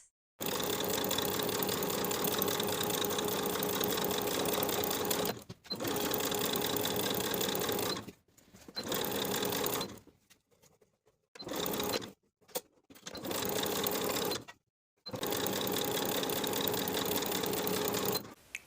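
A sewing machine understitches seam allowance to the lining around a romper neckline, running in loud close bursts of rapid needle chatter with several short pauses between runs.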